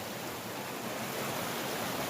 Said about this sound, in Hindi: ये चश्मे का साफ पानी है